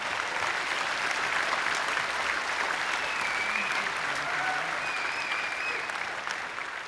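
A large convention audience at EVE Fanfest applauds steadily for several seconds, a dense, sustained wash of clapping that fills the hall and tapers slightly toward the end, with a few faint cheers and whistles mixed in.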